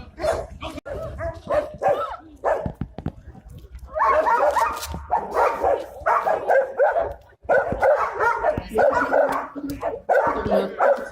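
A German Shepherd barking during protection work, rapid repeated loud barks and yips in dense bursts, close to the microphone with brief pauses between volleys.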